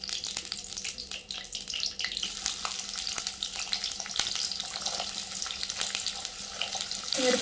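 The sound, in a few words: onions and chillies frying in a pan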